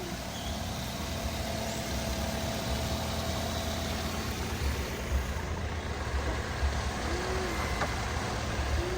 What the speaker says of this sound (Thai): เสียงเครื่องนิ่มๆ เลยนะครับ